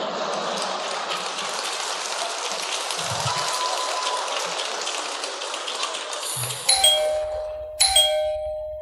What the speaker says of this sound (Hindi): घंटी बजी है।